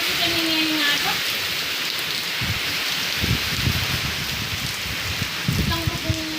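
Heavy typhoon rain drums on a roof in a dense, unbroken hiss with gusty surges and scattered thuds, loud and close throughout.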